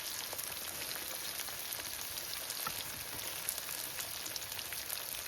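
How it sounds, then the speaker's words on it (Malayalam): Shallots and onions fry in a pan for Idukki-style botti curry, giving a faint, even crackling sizzle with scattered tiny pops and no talking. "ഈ ഉള്ളിയുടെ കൂടെ തന്നെ നമുക്ക് സവാള കൂടെ ഇട്ട് കൊടുക്കാം"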